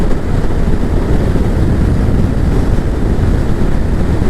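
Steady, loud, rumbling wind roar buffets the microphone of a motorcycle riding on a warm day in Alaska, continuous and unbroken, with no distinct engine note or voices.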